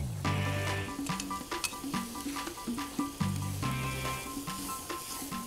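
Tomato sauce goes into browned ground meat in a hot pan for Pinoy-style spaghetti, setting off a lively close sizzle with stirring scrapes and bumps against the pan.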